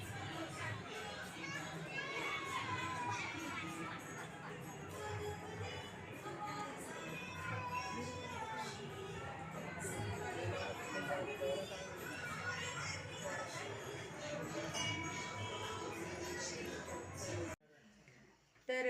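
Steady murmur of a crowd at a Swami Samarth temple, with many voices chattering and children's voices mixed in at moderate distance, continuous until an abrupt cut near the end.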